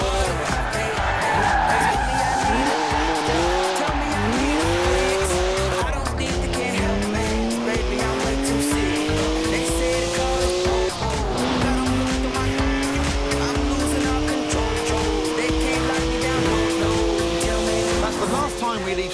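A BMW 1M tears into a smoky tire burnout in Forza Horizon 4, its engine revving hard as long rising tire squeals stretch across the whole stretch, loud and close, with a voice talking over it.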